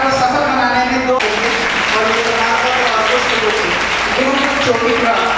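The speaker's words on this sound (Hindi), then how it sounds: "एक बार उनके लिए भी जोरदार तालियां आपको दी जाती है" Audience applause at a school women's education and safety event in Amroha, following a students' welcome song; dense, steady clapping fills the whole stretch, swelling loudly after a brief start amid background voices.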